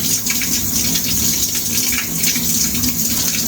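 Cold shower water pouring steadily and loudly at close range, a continuous hissing spray splashing with no voices heard.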